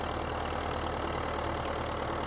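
A big Belarus tractor pulling a maize planter runs its engine at a steady, dense, rumbling drone, loud and unbroken throughout with no voices.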